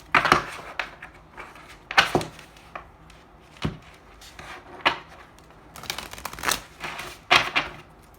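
A deck of tarot cards is shuffled by hand during a reading, with irregular papery riffles, slaps and rustles coming in bursts close by and no talking over them.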